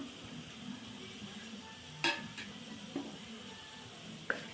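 A soft, steady dry rustle and faint crackle of dried shrimp dry-roasting without oil in a clay pot, with a few sharp scraping stirs and clinks standing out.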